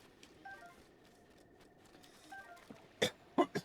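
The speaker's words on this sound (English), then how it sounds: "Oh, I wish I could stop coughing now, because I know that doesn't sound good to everybody." A person coughs three times in quick succession, loud and close, after a stretch of quiet game sounds.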